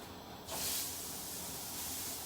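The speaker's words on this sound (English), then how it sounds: "Let them sizzle and cook and char." After a short quiet moment, food hits a hot pan and begins sizzling, a bright steady hiss that carries on close and fairly quiet during fish and chips cooking.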